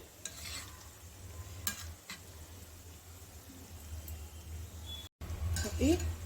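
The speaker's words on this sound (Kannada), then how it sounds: "ಈಗ ಸ್ಪೂನಿಂದ ಹೀಗೆ ಎಲ್ಲ ಕಡೆ ಚೆನ್ನಾಗಿ ಗೋಲ್ಡನ್ ಬ್ರೌನ್ ಬರೋ ಥರ ಫ್ರೈ ಮಾಡ್ಕೊಳ್ಳಿ" Shankarpali dough frying in hot oil on medium flame while a spoon stirs it, a soft sizzle with scattered scraping and clinking of the spoon against the pan, fairly quiet.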